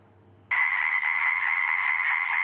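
A toad calls in one steady, sustained trill that starts abruptly and holds loud and close, with no talk over it.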